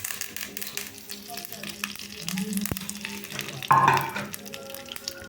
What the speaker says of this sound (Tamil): எண்ணெய் காஞ்சி இதில் கடுகு பொரியணும்ல இப்போ பாருங்கள் கருவேப்பு தலை போடுறோம்